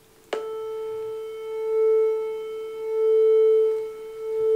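A struck tuning fork rings at about 440 Hz, opening with a sharp attack, then holding a steady pure tone that slowly swells and fades in loudness for several seconds, with no voices.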